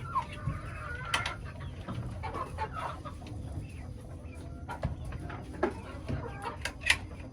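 Backyard chickens, including naked necks, cluck and chatter close by in scattered, irregular bursts at feeding time. A voice speaks faintly now and then beneath the birds.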